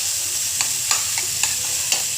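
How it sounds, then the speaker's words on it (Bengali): A vegetable chop mixture is stirred in hot oil in a wok, giving a steady close sizzle broken by several sharp scrapes and clicks of the spatula against the pan, with no voices. "এই যে এটাকে এখন তেলে আমি নাড়ছি"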